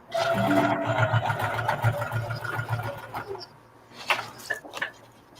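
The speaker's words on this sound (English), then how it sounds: "anytime I go over a seam, no matter what I'm showing, I go over a seam, I backstitch" A sewing machine backstitches over a seam on a reversible bucket hat, running in a fast steady whir for about three seconds, then stopping, followed by a few short clicks and bursts close by.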